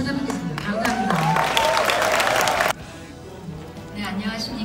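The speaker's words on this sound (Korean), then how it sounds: "박수 부탁드립니다" A crowd at a business promotion rally breaks into loud, dense applause for almost three seconds, then stops abruptly, leaving scattered voices and light room noise.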